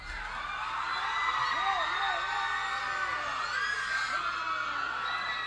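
A concert crowd at a 1996 live show at the Troubadour in Los Angeles screams and whoops, a continuous loud mass of many voices with rising and falling shouts and no single clear speaker.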